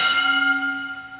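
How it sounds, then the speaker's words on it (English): A single boxing-gym bell rings once to open a workout round, a bright metallic strike with a long, steady ringing tail that slowly fades, heard clearly and alone. "So on the bell"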